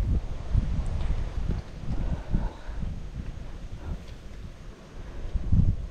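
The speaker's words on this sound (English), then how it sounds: "Wind's blowing" Wind blows across the microphone outdoors while fishing, a continuous low rumbling buffet that swells and fades in gusts.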